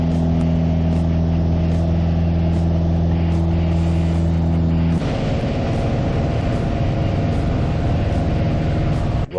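A Piper Archer light aircraft's piston engine runs loud and steady with a strong low drone, then the sound shifts abruptly to a broader, rougher roar partway through, as the engine revs for takeoff.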